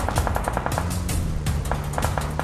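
Rapid bursts of automatic gunfire crackle in quick succession in PUBG Mobile, with a steady low hum underneath and no talking.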